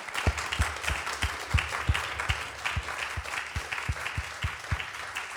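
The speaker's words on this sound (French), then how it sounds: "Les voilà, on les applaudit bien fort." An audience at an intimate concert applauds steadily, with a dense wash of many hands and a few louder nearby claps keeping an even rhythm throughout.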